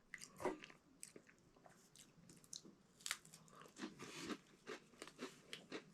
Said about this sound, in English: It tastes pretty good with these crackers.